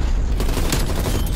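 Rapid bursts of video game gunfire blast loud and continuous in a first-person shooter match, a dense, booming rattle of shots with no pauses.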